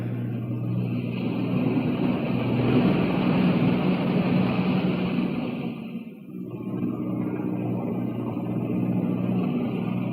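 Aircraft engines running in flight, a steady loud droning roar with a low hum underneath, dipping briefly before holding on continuously without talk.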